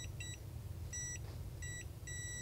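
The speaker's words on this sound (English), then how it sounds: "So I'll go into ohms range and then select the continuity buzzer." A multimeter's continuity buzzer, used while testing a digital clock kit build, gives four short, high, electronic beeps at irregular spacing. It is quiet and heard alone over faint room hiss.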